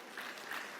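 Congregation at a church sermon applauding the Lord, a short, fairly quiet wash of clapping at steady density with slight swells, heard alone without speech.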